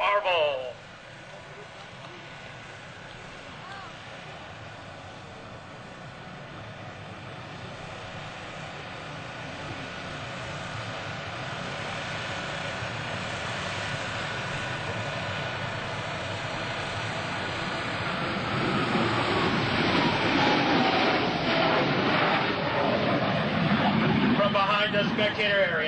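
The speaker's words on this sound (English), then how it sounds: "Blue Angels 5 and 6 are making their approach to the flight line in a line abreast formation at 400 miles per hour" A pair of US Navy Blue Angels jets, numbers 5 and 6, sweep past in line-abreast formation at about 400 mph at an airshow, their engine roar swelling steadily louder toward the end, heard under an announcer's voice.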